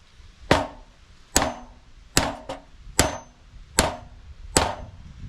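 Sharp hammer strikes driving a nail ring out one after another, six or seven solid blows at a steady pace, close and loud with a brief metallic ring after each.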